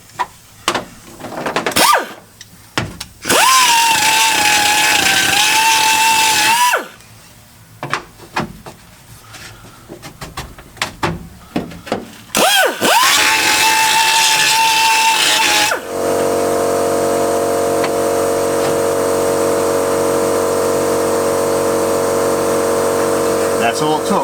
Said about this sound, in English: safety glasses on, and we'll hit it with the old die grinder